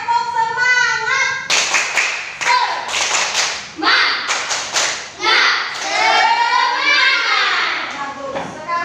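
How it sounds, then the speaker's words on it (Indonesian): Young schoolchildren in a classroom clap a rhythmic cheer pattern in sharp bursts of claps, the beat broken by pauses, with children and a teacher talking over and between the claps. "Tepuk semangat dulu ya."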